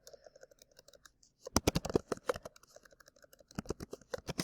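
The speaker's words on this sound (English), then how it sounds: "excuse my typing" Quiet typing on a computer keyboard while working in Google Docs: a run of close, irregular key clicks that starts sparse and soft, then turns into a denser, louder burst of taps.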